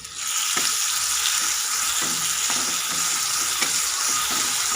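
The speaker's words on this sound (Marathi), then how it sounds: "आता मी त्याच्यामध्ये टाकून घेणार आहे ठेसा मिरच्याचा ठेसा थोडासा टाकणार आहे" Green chili thecha fries in a pan with a loud, constant sizzling hiss from start to end, broken by faint rhythmic scraping taps of stirring and no voices.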